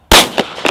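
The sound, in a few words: Glock 43 pistol gunshot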